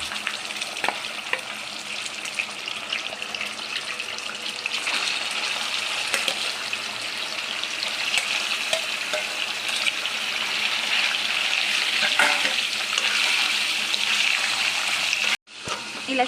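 Half a kilo of chicken frying in oil with cumin in a pan gives a steady, loud, close sizzle with occasional clicks of stirring, cutting out abruptly near the end before resuming.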